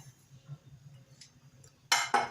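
Ingredients for a semolina dessert are mixed with mint. A quiet low hum gives way to two sharp metallic clinks of a utensil against a bowl near the end.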